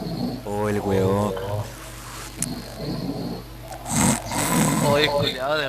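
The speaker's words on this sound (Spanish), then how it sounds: "de repente empezó a roncar" A man snores in loud rough rasping bursts nearby, with friends talking and laughing over and between the snores.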